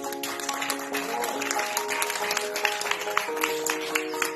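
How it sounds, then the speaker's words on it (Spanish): Scattered applause breaks out at a polling station on election day to cheer a voter, with moderate clapping alongside voices and other tonal sounds in the room. "agradecemos al señor Jorge con un aplauso"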